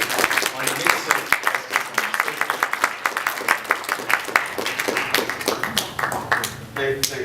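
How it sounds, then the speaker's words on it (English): An audience at a talk on the myths of safe pesticides claps in a dense, steady round of applause welcoming a speaker, many hands close and loud for several seconds. "let us give a big round of applause and welcome Andre Liu"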